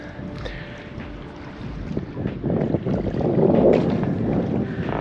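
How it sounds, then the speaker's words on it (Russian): Wind gusting across open water on Lake Ladoga, buffeting the microphone, with waves slapping around a kayak; a steady broadband rush that builds louder toward the end. "а ветер гуляет на открытом пространстве"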